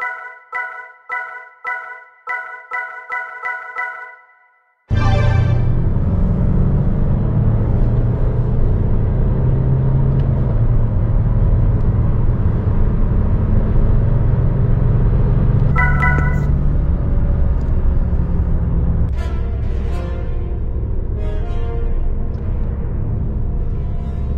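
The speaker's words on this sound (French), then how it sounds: "nous voici au volant du Berlingo HDI 130 année 2019, version driver" A 2019 Citroën Berlingo 1.5 HDi 130 diesel drives along a road, its steady engine and road rumble loud and continuous after a short burst of electronic chimes at the start.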